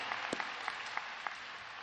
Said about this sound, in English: I'd like to hear this crowd go wild with a huge round of applause for these amazing graduates.